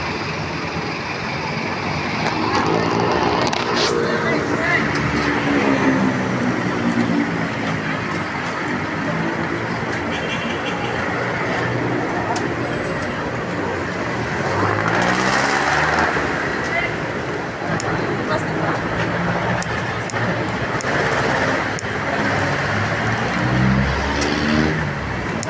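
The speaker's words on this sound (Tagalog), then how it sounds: "yun yung mga sasakyan doon papunta Quezon Memorial Circle, papunta Quezon Avenue o papunta Quezon" Cars stream along the road toward Quezon Memorial Circle, giving a steady traffic roar with engines swelling and passing. A voice talks over the continuous rumble.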